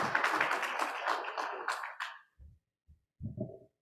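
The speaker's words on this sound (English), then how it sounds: "So let's give Vince a round of applause for all the work that he and his committee have done." Attendees at a hybrid meeting give a quiet round of applause that thins out and stops after about two seconds, followed by a few faint spoken words.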